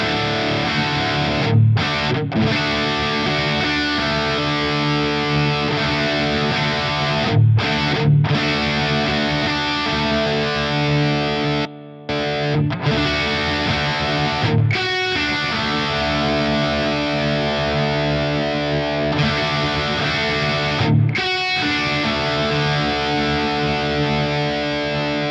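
Heavily distorted electric guitar runs through AMT tube amp emulator pedals, playing sustained chords with brief stops between phrases, loud and dense throughout.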